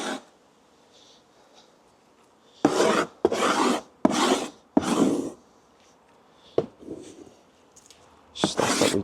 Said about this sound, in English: I'll scrape off any of this